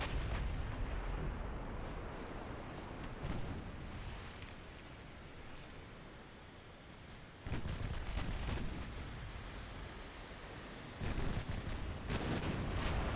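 Naval guns fire at a battleship in the naval warfare game Ultimate Admiral Dreadnoughts: heavy booming salvos with rumbling tails that break through a low windy background, with a big burst of several rounds mid-clip and more following.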